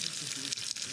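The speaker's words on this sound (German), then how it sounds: "Den Salbei tun wir jetzt schön kross mit anbraten. In Olivenöl." Sage leaves crisping in hot olive oil, a steady broad sizzle and crackle of frying in a pan, close and continuous for the whole moment.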